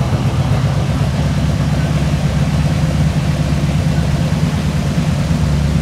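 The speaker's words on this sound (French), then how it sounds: "Et vous êtes ému quand vous écoutez le moteur tourner rond?" A vintage American V8 car engine idles with a loud, close, continuous low rumble that stays even and steady throughout.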